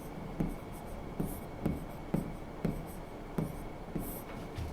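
A pen writes out a definition by hand on paper, a regular series of short scratchy strokes at roughly even intervals, close and moderately quiet, with faint background and no clear talk.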